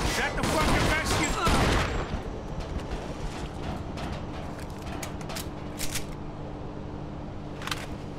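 Gunfire in the video game Mafia II, a dense burst of shots and loud clatter in the first two seconds, then scattered sharp cracks over a steady low background hum.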